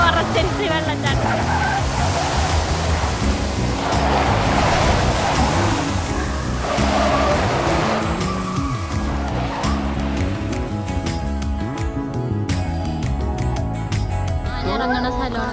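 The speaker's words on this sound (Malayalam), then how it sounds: "ഇവിടെ വെള്ളച്ചാട്ടം ഉണ്ട്, ഫോറസ്റ്റ് ഉണ്ട്." Waterfall in a forest, a loud, continuous broadband rush of falling water heard close, with indistinct voices mixed in.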